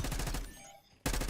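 Rapid automatic gunfire in a shooter video game, a fast close burst of shots that breaks off briefly and then resumes loudly.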